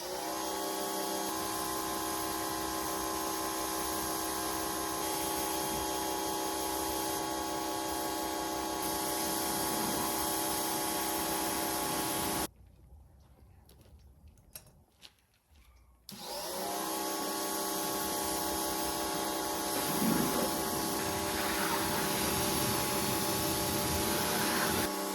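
An Amazon pressure washer motor drones loud and steady with a hissing spray while hosing soap off a car, cutting out for a few seconds midway before starting up again at full strength.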